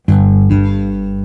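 A 1975 Jazz electric bass with Nordstrand NJ4-SV hum-canceling pickups, back pickup at full volume, plays two plucked notes close together that ring out loud and sustained.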